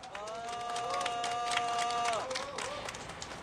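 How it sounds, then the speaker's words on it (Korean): Comrades at a labor union press conference protesting Jaenung Education clap and cheer together, a steady crowd roar with raised voices and whoops running for about three seconds before fading. "기자회견을 동지들의 힘찬 박수와 함성으로 시작하겠습니다."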